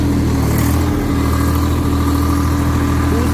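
A Swaraj 855 tractor, a 57 hp 2023 model, runs in medium gear with a steady, loud, close diesel drone that holds even throughout.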